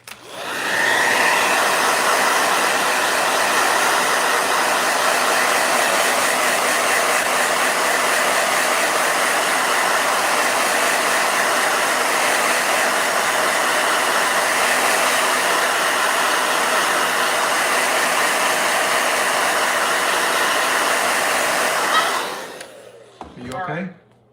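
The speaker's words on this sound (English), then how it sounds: "Blow dryer." A blow dryer drying a watercolor painting on heavy paper roars steadily and loud for over twenty seconds, then cuts off near the end, with speech faint under the noise.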